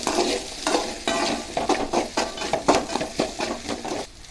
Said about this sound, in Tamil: இப்போ வெங்காயத்தை நல்லா வதக்கிக்குங்க